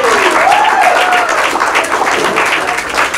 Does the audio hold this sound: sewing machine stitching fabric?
no